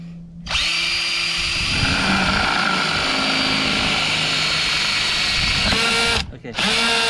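Power drill boring holes for a homemade surf fishing rod holder, a loud continuous whine running several seconds with pitch shifts, a brief stop and restart near the end.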